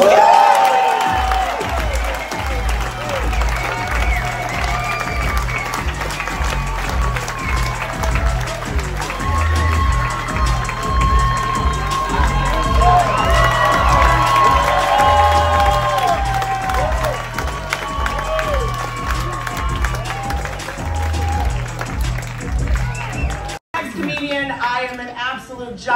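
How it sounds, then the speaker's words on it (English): A comedy club crowd at the Comedy Mothership, Joe Rogan's club, claps and cheers loudly and steadily for about 23 seconds over thumping music, with a voice calling out over the noise, before the sound cuts away abruptly. "Round of applause for Whitney Cummings."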